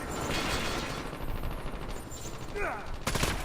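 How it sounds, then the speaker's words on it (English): Rapid gunfire in the mobile shooter game Call of Duty Mobile, dense bursts of automatic shots under game effects, with a sharp louder burst near the end and a brief whistling sound just before it. "Shoot that guy in the back of the head."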